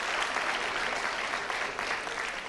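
Audience applause fills a university convocation hall, a dense, steady wash of many hands clapping together, moderately distant and unbroken for the whole stretch.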